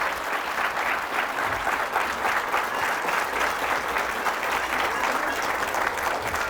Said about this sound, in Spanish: Fuertes aplausos al Rey de Reyes, al Señor de Señores